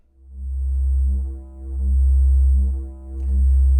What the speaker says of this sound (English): So I just have a sine wave on both outputs